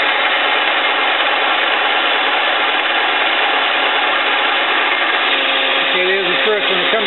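A metal lathe taking a deep cut, a steady loud whirring drone of the machine and cutting that runs unbroken throughout, close up, with a brief voice near the end.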